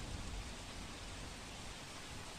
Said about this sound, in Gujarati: મધ્ય ગુજરાતના ખેડા જિલ્લામાં વહેલી સવારથી જ ધોધમાર વરસાદ વરસી રહ્યો છે